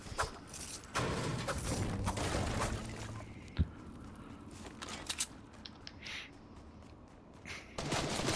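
Gunfire in the battle royale game Fortnite, with several loud broadband shots and bursts ringing through a noisy game mix, including one sharp crack standing out midway, with no speech.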